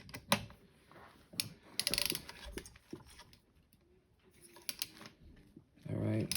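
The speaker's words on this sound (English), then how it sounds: "so you get a click. You don't want to over torque these." A torque wrench set to 80 inch-pounds clicks while tightening bolts on a Losi 5T RC truck, giving several faint, scattered mechanical clicks and ratcheting sounds close by.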